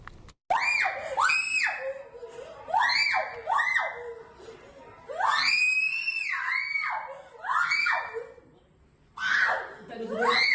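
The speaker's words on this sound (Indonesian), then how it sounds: "seorang pelajar yang merupakan penghuni panti asuhan Darussalam di Kota Padang, Sumatera Barat berteriak histeris" A schoolgirl living at the Darussalam orphanage in Padang, West Sumatra, screams hysterically, apparently possessed. Loud, wailing shrieks come in repeated bursts, each rising and falling, with short gaps between them and no speech.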